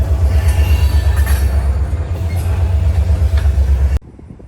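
A long ethanol freight train rolls by with a loud, heavy low rumble and wheel noise, close and continuous, then cuts off abruptly near the end.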